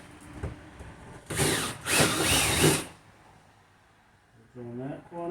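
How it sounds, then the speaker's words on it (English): A power drill whirs through wood in two loud bursts for an outlet old-work box, a brief pause between them, followed by a quieter stretch and a voice speaking at the end. "we can drill our hole"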